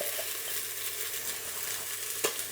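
Ginger and turmeric stirred in a hot frying pan, a steady sizzle running throughout with a brief sharper scrape of the spoon near the end, close and fairly quiet.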